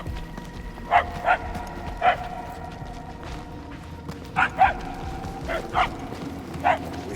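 In the video game Guardians of the Galaxy, a dog barks somewhere off at mid-distance, roughly eight sharp barks in loose pairs and singles over a low ambient hum.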